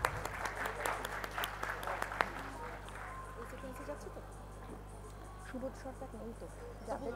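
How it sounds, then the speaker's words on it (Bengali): Applause from an audience at a book-launch event, strongest at first with sharp claps and then thinning into scattered clapping over a low steady hum and faint background murmur. "একটা জোরে হাততালি হয়ে যাক।"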